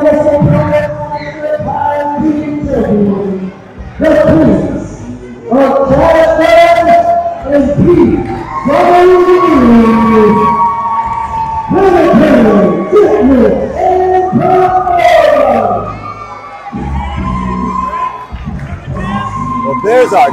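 A wrestling crowd roars and cheers for the tag team champions, a loud sustained mix of shouts, screams and whistles that rises and falls in waves throughout.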